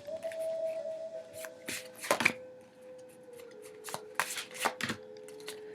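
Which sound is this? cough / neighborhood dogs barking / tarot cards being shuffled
tarot cards being shuffled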